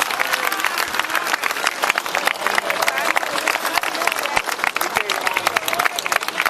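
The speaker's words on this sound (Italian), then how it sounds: "datemi una mano ad applaudire per tutto il lavoro che ha fatto il sindaco di Trissino, Davide Faccio" Audience applause for Davide Faccio, mayor of Trissino, at a monument inauguration: dense, sustained clapping from a crowd that fills the whole stretch at steady loudness, with no pauses.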